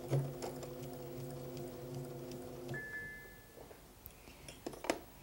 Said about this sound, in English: we'll slide it under the machine and continue sewing